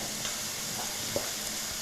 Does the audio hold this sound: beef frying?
yes